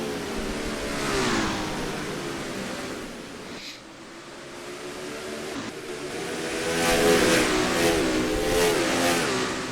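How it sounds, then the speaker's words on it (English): A race car engine in the NR2003 racing game, revving hard on the throttle at the Toyota Owners 400, a loud sustained roar that dips briefly and then climbs again with rising pitch. "Yeah, you can hear him on the throttle."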